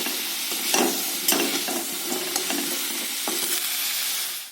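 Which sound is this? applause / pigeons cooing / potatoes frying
potatoes frying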